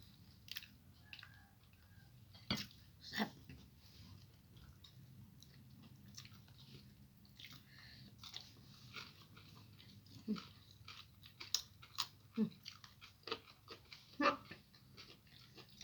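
Close, wet chewing of neem eaten at a homemade breakfast, soft irregular bites and crunches scattered over steady low room noise, with a few sharper louder chomps near the end.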